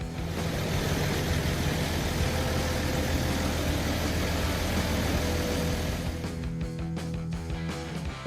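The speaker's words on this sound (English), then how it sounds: "Just listen to the roar of the engine." A homemade car's engine runs with a steady, rough low rumble that holds at a constant level, then thins out near the end with a few clicks.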